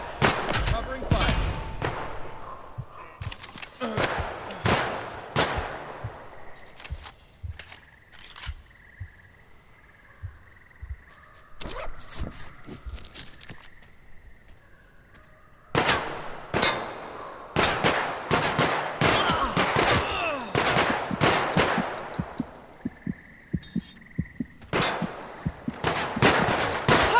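Gunfire in the video game Project Silverfish: sharp, loud shots and rapid automatic bursts with metallic clangs, coming in clusters over a faint background of insect-like chirping, with a voice speaking in between.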